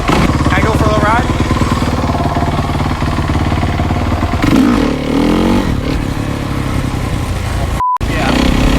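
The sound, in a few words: 2008 dirt bike engine running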